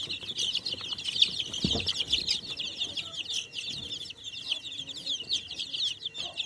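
Many layer hens cluck and chatter continuously on a poultry farm, a dense steady flock murmur close by with no talking.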